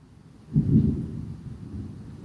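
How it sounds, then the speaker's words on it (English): Thunder from a July thunderstorm in Coram, New York: a low, muffled rumble swells after about half a second, peaks briefly, then slowly fades under faint wind noise, with no voices. "There's the thunder."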